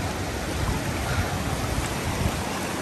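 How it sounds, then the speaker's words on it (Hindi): Glacial meltwater stream rushes after a glacial outburst flood, a loud, steady broadband roar of fast water heard up close with no pauses and no voices. "क्योंकि अभी पानी ऊपर से निकला है। ये आवाज़ आप सुन सकते हैं"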